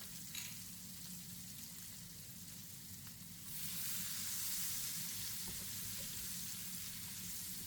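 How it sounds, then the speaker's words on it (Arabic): Onion and garlic hit hot butter in a pan after steak, a quiet sizzle swelling into a louder, steady frying hiss as they are stirred. "وحنحط البصل يعني الزبدة والثوم ونحركهم."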